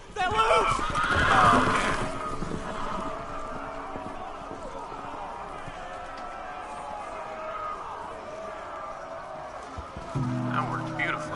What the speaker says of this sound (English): The horses! They're loose!